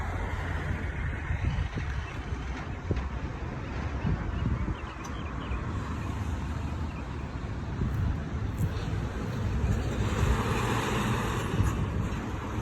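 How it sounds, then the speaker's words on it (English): Outdoor breeze blowing steadily near a roadway, a broad continuous rush of wind that holds fairly even for the whole stretch, with faint traffic in the background and no talking. "the breeze is blowing really good"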